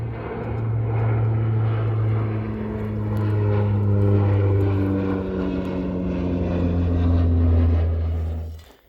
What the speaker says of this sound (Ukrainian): погляньте, який літак летить